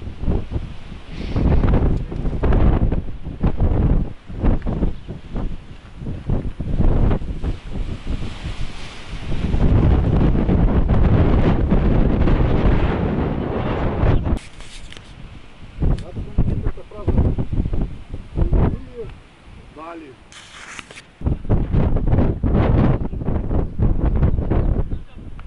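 Strong wind on Polyud mountain in Perm Krai buffets the microphone in heavy roaring gusts, rising and falling, with brief calmer gaps and a person speaking between blasts.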